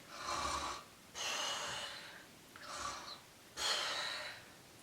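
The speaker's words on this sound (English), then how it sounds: "He was too busy snoring and relaxing in the sun." An old man snores while relaxing in the sun, four slow, breathy rasping snores spaced evenly with quiet pauses between them, close and clear with no talk.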